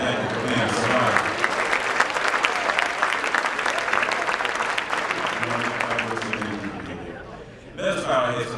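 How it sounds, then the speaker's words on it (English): An audience claps at a conference gathering, loud and sustained applause that gradually fades, and then a voice speaks briefly near the end. "Go ahead and clap your hands and thank you for being smart."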